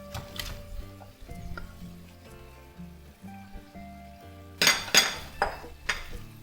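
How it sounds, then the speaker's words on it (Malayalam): Fried chicken pieces and green chillies are tipped into a kadhai for Peshawari chicken, giving a cluster of clattering metal and sizzling bursts near the end over steady background music. "വറുത്ത് കോരി വെച്ച ചിക്കനും ഒരു 3 പച്ചമുളകും കൂടെ ഇതിലേക്ക് ഇട്ട് കൊടുക്കാം."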